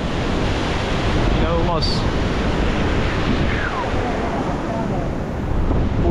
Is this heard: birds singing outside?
no